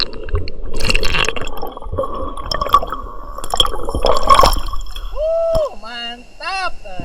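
Water splashing and gurgling as someone dives into a clear jungle river, with bubbly churning and drips, then a few short whistling or squeaky tones near the end, with a voice heard briefly.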